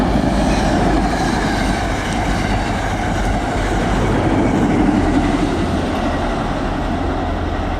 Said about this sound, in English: here comes the train. This is going right through.